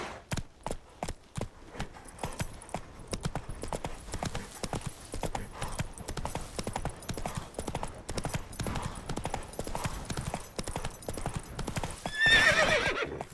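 Roach, the horse in The Witcher 3, gallops in a fast, steady rhythm of hoofbeats close by, ending in a loud whinny.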